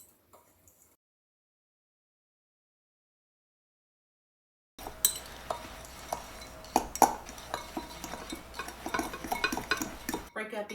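Chocolate cobbler ingredients get mixed in a bowl, with spoon or utensil clinks and scraping against the dish in an irregular run of close, moderately loud knocks after a few seconds of silence.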